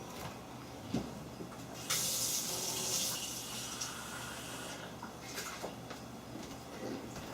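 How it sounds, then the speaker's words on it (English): Water pours steadily with a soft hissing splash for a few seconds into pie dough, fairly quiet and close, then trails off into low background noise. "add your water, and you'll use your spoon to mix it in."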